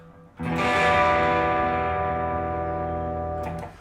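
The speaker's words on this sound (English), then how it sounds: "It's just the Nuex Golden Horse, the Two Notes Revolt on the clean Fender Bassman channel, and the Echo Man pedal." An electric guitar plays a clean sustained chord through an amp simulator set to a clean Fender Bassman channel with an echo pedal, ringing for about three seconds with a soft echo tail, loud and isolated.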